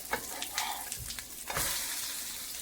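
Shami kababs sizzle and crackle steadily in a hot pan, a close, continuous fry with a few sharper spits and stirring scrapes and no talking.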